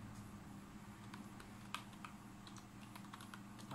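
Computer keyboard typing during a Windows 7 install in a disk partition command prompt: quiet, irregular clusters of soft key clicks with a few sharper taps, alone over a low steady hum.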